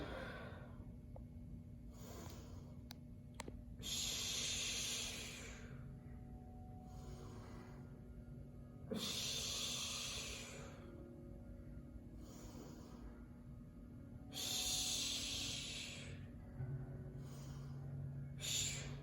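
Several people breathe in and out during a stretch exercise in a workout class, with long, loud breaths repeating at regular intervals over a low steady hum.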